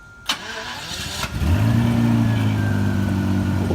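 A Jaguar XJS V12 with its muffler removed starts up and settles into a loud, steady, droning rumble close by, after a sharp click and a brief cranking burst, with no talk over it.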